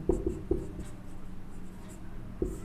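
A pen or marker writes by hand during a class 10 maths lesson, with scattered scratchy strokes and a few sharper taps over a quiet room, and no voice.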